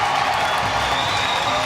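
Ice hockey crowd reacting after a fight at a Sheffield Steelers pre-season game against Södertälje SK, a loud, steady wash of applause and cheering from a packed arena.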